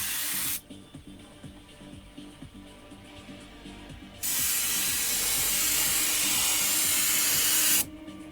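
An airbrush sprays paint onto an RC car body shell: a close, steady hiss in long bursts, with a pause between bursts and a low motor hum underneath.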